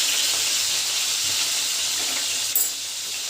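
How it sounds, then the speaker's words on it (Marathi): Eggplants frying in hot oil give a steady, bright hiss that runs throughout, with a small clatter near the end. "वांगी अशी तेलामध्ये भाजून घ्यायचे"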